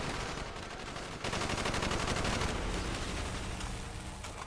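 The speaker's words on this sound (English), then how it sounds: "Bowman, Carlos, lay down covering fire." Gunfire in the Call of Duty Black Ops campaign: dense, sustained automatic bursts on an urban street, loud and continuous throughout with little pause.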